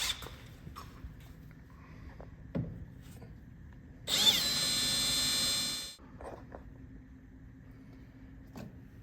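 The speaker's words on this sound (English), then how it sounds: "we got a couple holes we need to drill up top there." A power drill bores 5/16-inch holes for 8mm rivets while splash guards are fitted to a 2021+ Gen 3 Ford Raptor. One steady whine lasts about two seconds amid quieter handling clatter.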